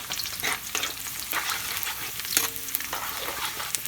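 Minced garlic, one whole head finely chopped, sizzles in hot oil in a pan for a palabok sauté, a steady crackling fry broken by a few scraping stirs, close and fairly loud, no talking.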